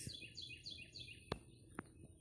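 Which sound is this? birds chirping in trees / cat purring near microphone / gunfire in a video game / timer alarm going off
birds chirping in trees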